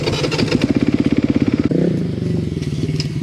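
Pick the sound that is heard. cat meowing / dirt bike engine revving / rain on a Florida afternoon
dirt bike engine revving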